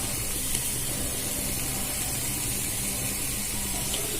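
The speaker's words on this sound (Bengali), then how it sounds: "এটা খুব ভালো করে নাড়াচাড়া করে ভেজে নেব।" Egg and potato batter snack frying with turmeric and salt, giving a steady, continuous sizzle and hiss of hot oil that runs evenly throughout with no talking.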